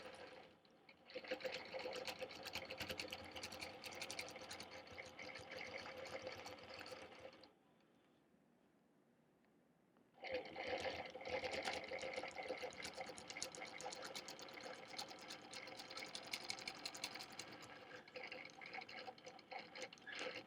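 A sewing machine stitching in the ditch around the inside edge of a quilt block, a steady fairly quiet whirring run that pauses for a few seconds midway, then resumes and continues to the end.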